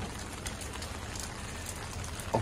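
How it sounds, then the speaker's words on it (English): Heavy rain drums steadily on the bed cover of a 2022 Toyota Tundra pickup, a dense, even patter of countless drops with no pauses, close and continuous throughout. "As you can see right now, it is raining very hard."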